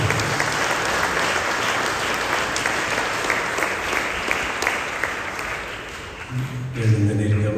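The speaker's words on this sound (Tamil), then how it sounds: "பாராட்ட வண்ணம் பலத்தமாக கைத்தட்டி அனைவருக்கும் நன்றி செய்வோம்" A church congregation clapping loudly together, a sustained dense wash of applause that thins near the end as a voice begins speaking over it.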